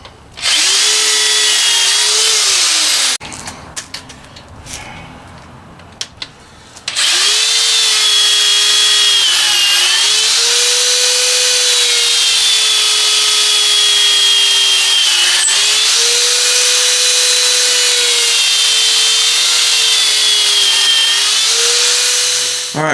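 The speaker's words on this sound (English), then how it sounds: "But I'll be able to drill these smaller ones," A power drill bores holes through a six-foot wooden stick for a peg loom, its whine loud and steady across most of the stretch, pitch sagging and recovering as the bit bites, with a brief scraping pause midway.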